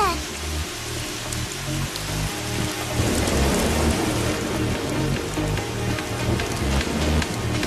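Heavy rain pours steadily outside with a rumble of thunder, a dense continuous hiss that swells louder partway through, with faint voices underneath.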